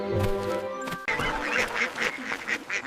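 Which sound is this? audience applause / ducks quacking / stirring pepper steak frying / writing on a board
ducks quacking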